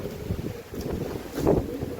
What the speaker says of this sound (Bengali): মানে বাতাস ছেড়ে দিচ্ছে